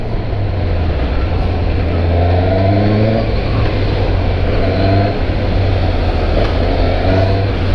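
A Suzuki GSX-S 750 motorcycle engine drones loudly and steadily during a ride through a São Paulo traffic corridor, with heavy wind rush and no clear pauses.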